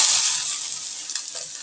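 Carrots dropped into hot oil with mustard seeds, a loud close hiss that starts strong and slowly eases into a steady sizzle with a few small pops.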